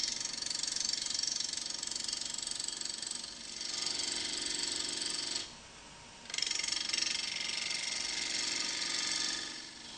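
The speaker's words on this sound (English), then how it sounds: "Switch on the lathe and adjust the speed as appropriate. Using the 3/8 bowl gouge, turn the bowl blank down to the round." A wood lathe spins a bowl blank while a 3/8 bowl gouge cuts it round, giving a loud, continuous rough ripping and rattling texture with one short pause as the tool lifts off.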